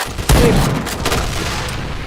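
Close, loud bursts of gunfire in a first-person shooter game: a sharp volley opens, followed by rapid follow-up shots and a lingering rumble, with no talking over it.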